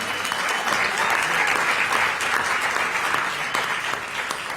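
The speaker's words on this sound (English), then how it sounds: "So let's give them a hand clap." Steady, sustained applause from an audience at a public hearing on reparations, a broad even wash of clapping with no talking over it.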